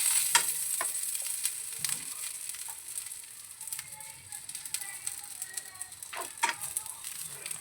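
Crispy stuffed chicken sizzles and spits as it fries in a pan, with steady stirring and occasional clinks and scrapes against the pan throughout.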